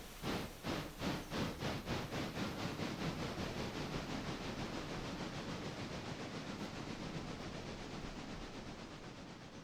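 A locomotive in the Railroader game pulls away in reverse, its chuffing bursts quick and distinct at first and then blurring into a steady hiss and rumble that slowly fades as it moves off.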